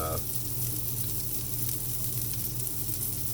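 Pea burger patties sizzle in a pan with a dense, even frying hiss and crackle, constant and close, with faint speech-like sound briefly at the start.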